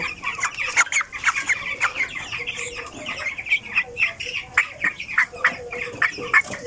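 Fourteen-day-old broiler chicks in a brooder cluck and chirp busily, with many overlapping calls in quick, uneven bursts, close by and fairly loud throughout.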